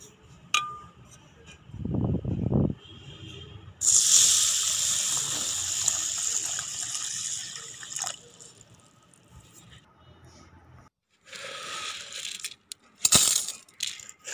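Water pours and splashes in a long, steady stream over millet set to soak, with a few clinks and drips before and after.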